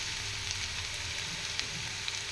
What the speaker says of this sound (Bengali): একটু নেড়ে ছেড়ে দিচ্ছি